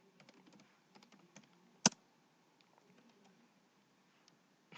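Keys on a computer keyboard tap in short, quiet bursts of typing with pauses between them, close by, with one sharper louder click partway through and another at the end.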